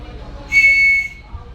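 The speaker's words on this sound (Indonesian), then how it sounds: "kita bisa menggunakannya dengan peluit untuk menandakan bantuan segera datang" One sharp, shrill whistle blast rings out for about half a second, loud and close, against a low background hum aboard the ferry KMP Swarna Kartika, during a safety briefing.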